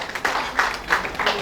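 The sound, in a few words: audience applause honouring Colonel Sudhir Kumar Singh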